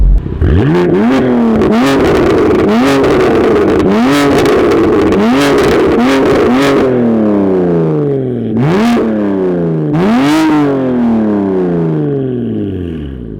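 A BMW M3 engine with a new loud Valvetronic exhaust revs hard again and again, each rising howl dropping back in a rhythmic series of about eight blips, up close and very loud with crackly exhaust bursts between.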